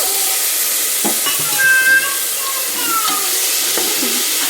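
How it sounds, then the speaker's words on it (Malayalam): Chopped tomato frying in a pan for an egg biryani cooked in a pressure cooker, a loud steady hiss and sizzle with occasional stirring scrapes and faint background cries. "അരിഞ്ഞു വെച്ചിരിക്കുന്ന തക്കാളിയും കൂടെ ചേർത്ത് കൊടുക്കാവേ"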